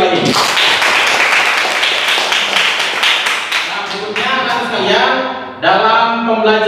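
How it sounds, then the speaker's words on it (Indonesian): A class claps in unison during a teaching session, with loud, rapid applause for the first few seconds that fades as a voice starts speaking and then carries on. "tepuk tangan untuk saya punya lagi."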